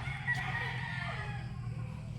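A Dan Gray gamecock rooster crows once, a single drawn-out call that is moderately faint over a low background hum.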